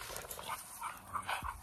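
Two untrained dogs fight and bite at each other, with a steady scuffle of snarls, whimpers and panting breaths close up, with no clear talking.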